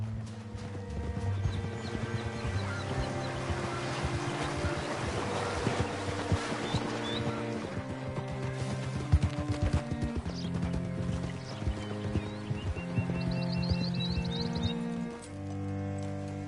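Horse hooves clip-clop steadily in the Red Dead Redemption 2 video game, a moderate rhythmic trotting beneath a sustained musical score and ambient sound.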